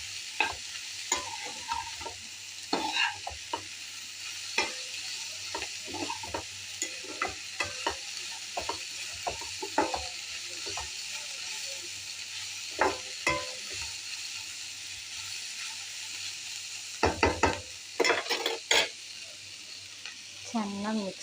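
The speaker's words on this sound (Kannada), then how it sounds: "ಚೆನ್ನಾಗಿ ಮಿಕ್ಸ್ ಮಾಡ್ಕೊಳ್ಳಿ ಅದನ್ನು, ಯಾಕಂದರೆ ಖಾರ ಅರಿಶಿಣದ ಪುಡಿ ಎಲ್ಲ ಮಿಕ್ಸ್ ಆಗಬೇಕಲ್ವ" Spices, chili powder and turmeric being stirred into a cabbage stir-fry in a pan, with repeated scraping and clinking of a spoon over a soft continuous sizzle, close up and steady throughout.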